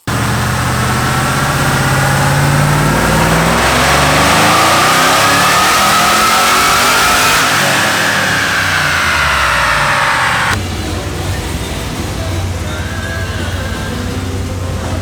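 A Camaro ZL1 engine on E85 fuel roars through a full dyno pull, loud and close, rising steadily in pitch as it revs, then dropping abruptly near the end to a lower steady drone.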